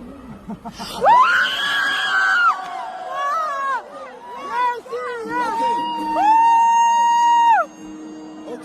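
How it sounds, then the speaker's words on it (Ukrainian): Crowd at a concert in Russia screaming and cheering, loud sustained shrieks and excited shouting rising in waves, with a strong voice-like cry carrying over the noise. "одразу починають там крики, всі радіють"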